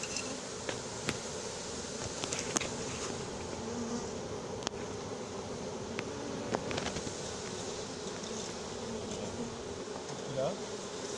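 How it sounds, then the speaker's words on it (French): Honeybees from a newly hived colony buzz steadily around the hive, a dense continuous hum close by, with occasional rustles and faint voices in the background. "tes abeilles, elles sont trop tranquilles"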